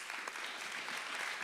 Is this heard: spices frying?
no